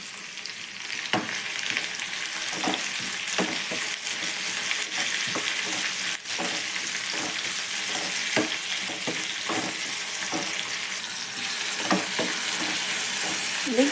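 Tomatoes with ginger and garlic sizzle steadily in a hot pan for kushka, with a constant frying hiss punctuated by the soft scrape and clack of a stirring spoon.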